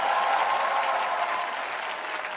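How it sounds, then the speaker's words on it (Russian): An audience at a televised stage show applauding, dense sustained clapping from a crowd that stays loud and fairly even before easing slightly toward the end. "А где аплодисменты"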